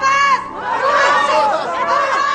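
An angry film crowd bays for Barabbas to be released instead of Jesus, a loud, dense mass of overlapping shouting voices that surges and rises in waves.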